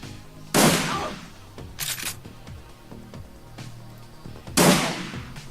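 Gunfire rings out in the video game Shadowrun Returns: three loud, sharp shots spaced a couple of seconds apart, each followed by a short decaying tail over a low background.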